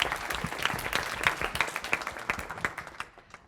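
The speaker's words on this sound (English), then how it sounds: "we can give Hunter a round of applause" Conference audience applauding a speaker, a dense steady patter of many hands clapping close by that thins and fades out toward the end, with no talk.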